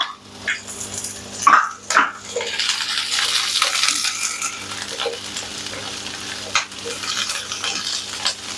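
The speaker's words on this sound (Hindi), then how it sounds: "घी में फ्राई करेंगे, थोड़ा सा रोस्ट करेंगे इसको।" Garlic and onion frying in ghee in a karahi for white chicken karahi: a steady, close sizzle broken by scraping stirs, with no voices.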